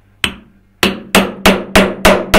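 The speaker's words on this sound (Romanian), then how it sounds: "Acum fac găurele pentru a ști unde să dau găurile cu preducerele. Găuresc pielea pentru a-și putea însăila." A hammer drives a punch through leather while marking stitching holes for traditional peasant opinci sandals, seven sharp close strikes, the first alone and then six in a steady quickening rhythm, with no talk.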